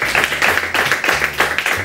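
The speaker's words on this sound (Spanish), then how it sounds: "Fuerte el aplauso para Benja, por favor." A television studio audience gives a guest doctor brisk applause, a steady wash of many hands clapping with a rhythmic pulse, loud and close.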